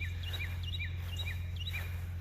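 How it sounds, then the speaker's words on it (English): Birds singing outdoors, repeated short chirping phrases at moderate distance over a steady low hum. "Listen to the birds singing"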